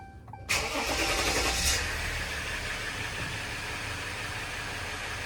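A Ram EcoDiesel truck engine cranking and starting after a fuel filter and water separator replacement, a loud burst of cranking that settles into a steady, close diesel idle rumble.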